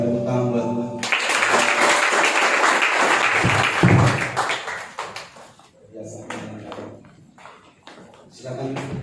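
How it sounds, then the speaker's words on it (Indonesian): Applause from a church congregation during a worship service fills about three seconds with dense broadband clapping, then fades while someone speaks over it and continues talking. "Berikan tepuk tangan buat Tuhan."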